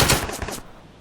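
Short burst of suppressing machine-gun fire in the military tactics game The Troop, a few rapid close shots followed by a quickly fading echo.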